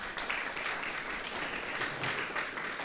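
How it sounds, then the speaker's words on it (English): A seated audience at a police department awards ceremony applauds in a full, even wash of clapping that holds steady for the whole stretch. "so nice round of applause after I'm done"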